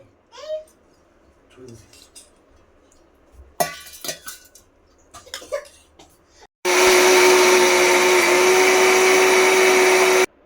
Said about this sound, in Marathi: चला आता आपण हे आता छानपैकी वाटून घेऊया